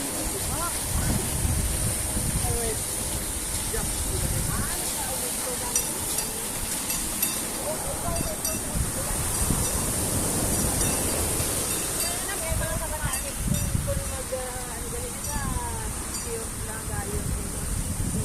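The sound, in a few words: water overflowing from heavy rain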